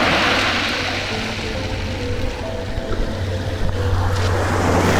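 Sea waves break and wash on the shore in a steady broadband roar, loud and close, with wind buffeting the microphone and a low rumble throughout and no talking.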